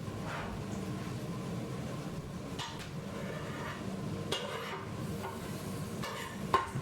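Onion frying in a pan for a bacon Brussels sprout casserole: a quiet, steady sizzle broken by a few scraping stirs and light clinks of utensil against pan.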